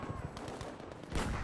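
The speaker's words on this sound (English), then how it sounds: "Who is shooting?" Rapid bursts of gunfire crackle through a Battlefield V firefight, overlapping shots sounding at mid distance, dense and fairly steady, swelling louder near the end.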